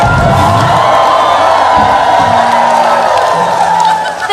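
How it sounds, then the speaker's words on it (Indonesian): A dense crowd cheers and claps loudly and continuously, with shouts and voices mixed into the steady roar. "Terima kasih untuk tepuk tangannya."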